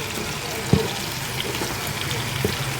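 Tap water runs and splashes while ingredients for Ivorian okra soup are washed, soft and fairly faint, with a couple of light knocks and a little background talk.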